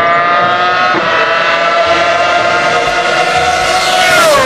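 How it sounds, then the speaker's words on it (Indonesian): A Formula 1 race car engine screams at high revs, a steady loud whine with rising pitch near the end, continuous and close with no talking. "Yang ini mobil balap"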